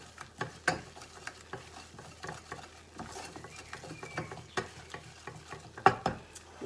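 A spoon scraping and stirring chicken wrap filling in a pan over low heat, soft irregular scrapes and taps over a faint sizzle, close and quiet, with no talk.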